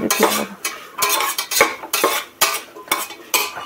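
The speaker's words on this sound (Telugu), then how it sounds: "ఇప్పుడు మనము మిగతా వెజిటేబుల్స్, క్యారెట్, ఉల్లగడ్డ ఇవి కూడా మంచిగా కలిపి కొంచెంసేపు వేగనిద్దాం." A spoon scrapes and clatters in a pan as carrots and onions fry for sambar, with repeated rhythmic stirring strokes and metallic knocks every half second or so, close and loud, no speech.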